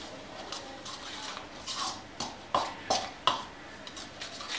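A spoon scrapes and taps against a bowl while creaming butter with powdered sugar, making soft, irregular clinks and scrapes that grow louder and more rhythmic toward the middle, close by with no talking.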